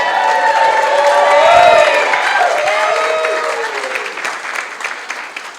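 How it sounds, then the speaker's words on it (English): At a wedding speech, an audience breaks into loud applause with scattered cheers and a voice or two over the clapping, building and then slowly fading. "Seems she's getting more applause than me."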